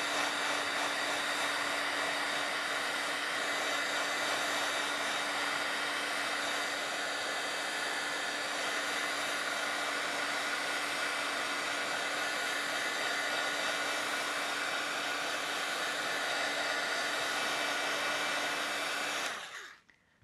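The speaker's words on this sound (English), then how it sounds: "So I'm just gonna hit it with my heat tool." A craft heat tool blowing hot air over inked paper, giving a steady, even whirring hiss that runs unbroken for about nineteen seconds before cutting off abruptly, with no talk.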